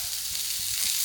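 Onions frying with cumin, ginger and garlic in a pan, a steady hissing sizzle with faint soft stirring thuds underneath, close and continuous.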